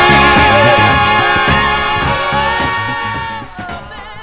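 A 1960s soul 45 played on vinyl plays loudly, with steady rhythm, bass and layered harmonic instruments filling the mix. Toward the end it thins slightly.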